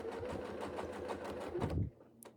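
A sewing machine stitches steadily in a quick, even rhythm for free-motion quilting of shell shapes, close and moderately quiet, then stops abruptly with a faint click afterward.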